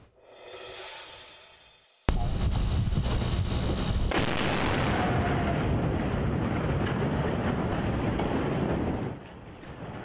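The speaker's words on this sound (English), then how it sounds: "Demolition crews detonating explosives on the wreckage of the collapsed Key Bridge in Baltimore." Demolition explosives detonate on the collapsed Key Bridge wreckage in Baltimore: a faint rising whoosh, then one sudden loud blast that rolls into a long, heavy rumbling roar before easing off near the end.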